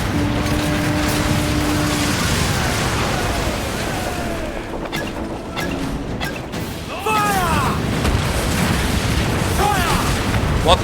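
Ship cannons firing during a naval battle in Assassin's Creed Black Flag, with deep booms rolling under a steady wash of sea and wind, while voices shout commands over the din.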